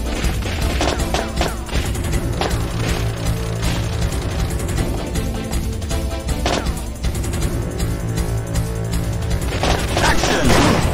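Gunfire in the arcade shooter Time Crisis on PS1, with bursts of shots and mechanical clatter over continuous game music and effects, loud and busy, with game voices calling out.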